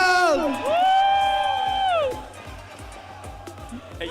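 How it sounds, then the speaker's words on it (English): A tournament crowd at a Grand Final cheers and whoops loudly for about two seconds, then fades into a rhythmic chant with claps underneath, while a commentator's voice rises and falls over the noise. "the crowd chanting 500"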